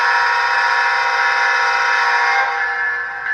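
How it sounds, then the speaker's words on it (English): Horn of an Intermountain Tier 4 GEVO model locomotive sounding one long, steady, loud multi-tone blast that holds evenly before trailing off at the end. "when you hit the horn"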